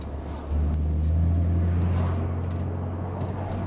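A Jaguar XJ6 engine surges into a loud, steady roar that holds through the rest of the clip, with no talking.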